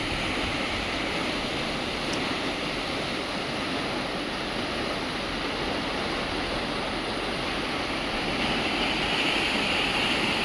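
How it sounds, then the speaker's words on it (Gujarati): Water from the Dholidhaja dam in Surendranagar flows along a canal toward Botad, a loud, steady rushing roar that continues unbroken throughout with no voices. "સુરેન્દ્રનગર ધોળી ધજા ડેમમાંથી કેનાલમાં પાણી જઈ રહ્યું"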